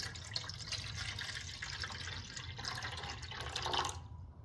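Water poured from a measuring cup, a steady splashing, trickling stream lasting several seconds at close range, with no voices.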